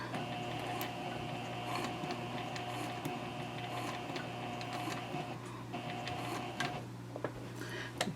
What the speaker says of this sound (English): we're just going to sew across to this side